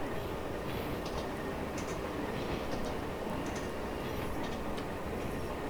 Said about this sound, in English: I love the rail sounds from this model